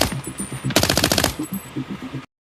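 Rapid machine gun fire in the Ukrainian war film Kruty 1918, with bursts of shots around a train, loud and close, in a dense rattling burst near the middle of the clip and lighter repeated shots on either side.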